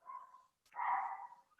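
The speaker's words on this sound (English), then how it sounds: "I apologise for my dog's barking in the background." A dog barks in the background of a remote council committee meeting, two fairly close, clear barks with a short gap between them.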